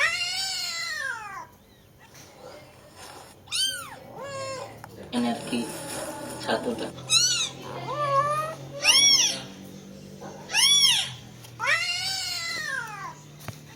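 A small kitten meows repeatedly in high, wavering cries, close by, with a person speaking briefly between the calls.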